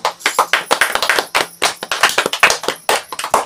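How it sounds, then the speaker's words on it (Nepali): A church congregation claps in a quick, rhythmic burst of sharp, close hand claps, sustained and fairly loud with no talk over it. "त्यसैले हामी परमेश्वरलाई ताली बजाएर धन्यवाद दिनेछौँ"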